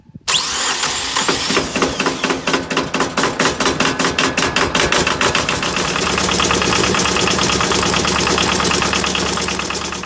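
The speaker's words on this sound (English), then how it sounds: "Grandpa's going to start the tractor up." A 1978 Yanmar YM1700 tractor diesel cranks with rapid rhythmic chugging, catches, and settles into a loud, steady knocking idle, recorded up close with no talk.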